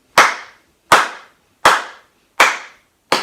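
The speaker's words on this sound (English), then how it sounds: "Let's find a beat by clapping." Five loud, sharp hand claps ring out alone at an even, slow beat, each with a short decaying tail.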